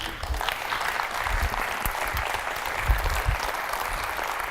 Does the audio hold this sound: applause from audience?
yes